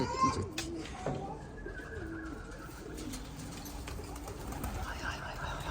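Soft, throaty cooing from several pigeons rises and falls continuously, with occasional wing flutters and faint background noise.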